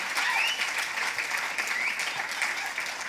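Steady applause from a conference audience, dense continuous clapping filling the whole moment without pause.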